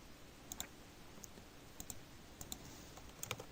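Sharp mouse clicks on a computer running accounting software, arriving in small clusters of one or two spaced through the stretch, close and fairly quiet with no talk.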